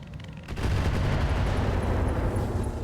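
Mech weapons fire in the RogueTech battle game, starting with a few sharp cracks, then a heavy sustained rumbling barrage of booms and blasts that carries on loud and dense.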